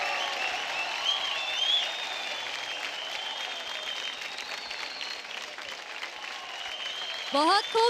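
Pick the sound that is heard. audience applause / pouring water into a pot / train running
audience applause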